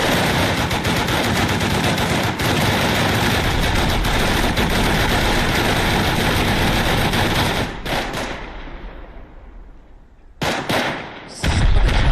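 Dense, sustained automatic gunfire from the video game Rust rattles loud and close for several seconds, then fades into scattered echoing shots before short bursts resume.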